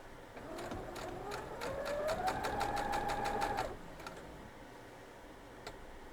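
Sewing machine stitching down prepped quilt block pieces for a block-of-the-month quilt, a steady rapid run that speeds up and then stops, followed by quiet room tone with a faint tick.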